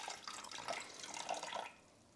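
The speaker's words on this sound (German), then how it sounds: "Dann benötigen wir 180 Gramm Wasser." Water is poured steadily into a Thermomix TM5/TM6 mixing bowl for bread dough, a soft continuous splashing trickle of about two seconds that fades at the end, faint and with no talking.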